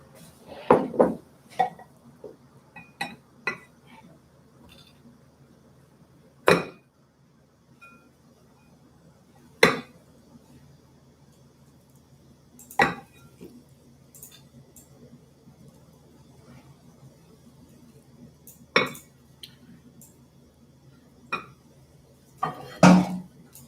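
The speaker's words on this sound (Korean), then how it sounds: "자, 이제 완성 접시에 좀 담아볼게요." Scattered clinks and taps of utensils against dishes as cooked rice is served onto a large plate, sparse and irregular, with a faint kitchen hum between the knocks.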